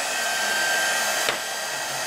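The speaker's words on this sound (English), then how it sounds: "go ahead and get my heat gun going" Heat gun running while drying a glass craft piece: a continuous loud airy whoosh and fan whine, steady throughout with a small click partway.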